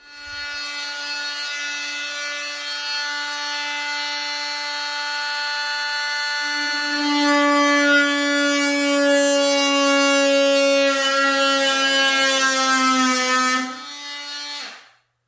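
A Milwaukee oscillating multi-tool with a new blade cuts into the body of a BMW E46 M3 race car, a loud sustained buzzing whine that deepens and grows harsher midway, then stops abruptly.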